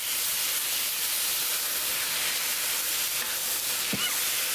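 Beef sizzles steadily in a pan for a basil beef stir fry, a close, even hiss throughout with a brief louder crackle near the end.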